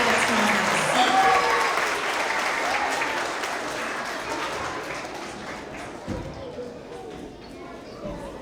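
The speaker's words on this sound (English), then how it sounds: "let's have one last round of applause for all of our skilled collaborators" Young children and families applaud at a kindergarten to second grade school award assembly, a loud, dense burst of clapping that gradually thins and softens over several seconds, with a few isolated claps and murmuring voices toward the end.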